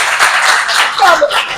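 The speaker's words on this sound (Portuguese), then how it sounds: "eu queria pedir uma salva de palmas" Audience applause for a female lecturer after a tribute at a talk on nutrition strategies for stress, dense steady clapping filling the room with some laughter and voices mixed in.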